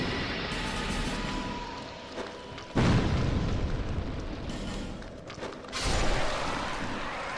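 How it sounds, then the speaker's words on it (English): Bombs blowing up in the video game Dark Souls II: Scholar of the First Sin, two loud booming blasts a few seconds apart, each rolling out into a rumble over steady background game noise. "We got these bombs to do the work."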